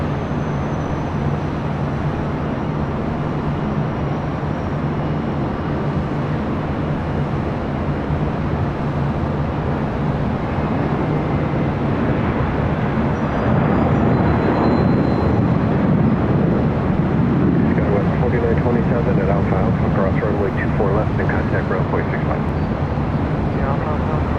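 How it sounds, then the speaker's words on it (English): An airliner arriving from Rome touches down on runway 25 left at LAX, a loud sustained jet roar that swells midway, with a voice talking over it. "Flight coming in from Rome, touching down on 25 left."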